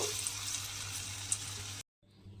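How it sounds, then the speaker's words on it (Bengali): Khesari dal lentil pakoras deep-fry in hot oil, giving a steady, close fizzing hiss with small crackles that suddenly cuts off, then returns faintly. "এইভাবেই কিন্তু আমি সমস্ত পকোড়াগুলো ভেজে নেব।"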